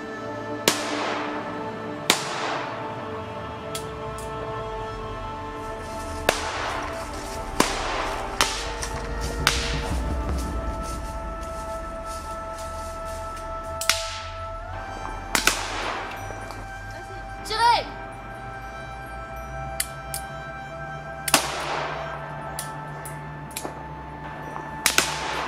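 Soldiers fire guns in a volley of sharp, scattered cracks, some near and loud and others fainter, spread irregularly across a long stretch with voices shouting orders in between.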